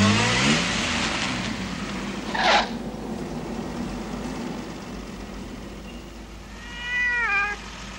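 A cat meows twice, a short cry near the start and a longer, rising yowl toward the end, over a steady background hum, in a home setting from a 1986 Italian TV drama.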